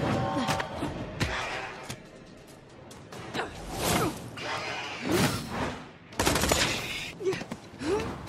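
Gunfire from a gun in Tales from the Borderlands: quick bursts of shots mixed with whooshing swipes and thuds, fairly close and uneven, with game voices talking in between.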